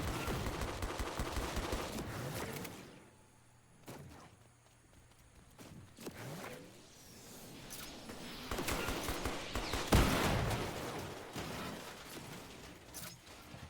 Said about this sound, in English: I go for a shot on one of the flying enemies here